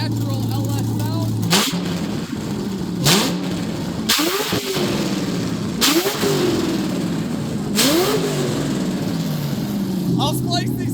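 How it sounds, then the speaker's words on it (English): An LS V8 swapped into a Porsche 911 with open headers revs hard repeatedly, about six sharp throttle blips rising and falling over a loud, rumbling idle, close by. "So now we're hearing its natural LS sound."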